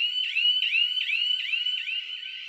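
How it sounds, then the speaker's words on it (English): A fire alarm goes off very early in the day, a loud, piercing electronic tone that repeats in quick, evenly spaced whooping pulses without pause. "very early fire alarm"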